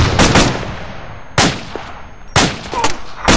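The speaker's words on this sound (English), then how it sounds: "Get some grenades down range." Loud, close gunfire from an ARMA 2 military shooter battle with M203 grenade launchers, three sharp bursts of shots and blasts spaced about a second apart over a constant background rumble.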